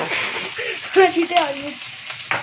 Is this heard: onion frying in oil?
yes